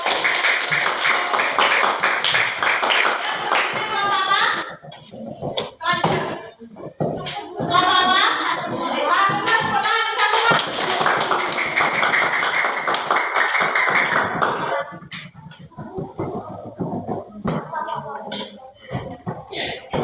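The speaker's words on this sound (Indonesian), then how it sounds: "tepuk tangan untuk" Hands clapping in a crowd during a gathering, sustained percussive patter broken by brief lulls, with voices and chatter mixed throughout.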